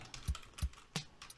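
Keys are tapped on a computer keyboard while entering a drum kit name in FL Studio, a few close, crisp clicks in an uneven rhythm.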